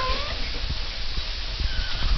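A kitten gives a couple of faint, thin meows, one near the start and one near the end, over a constant background hiss.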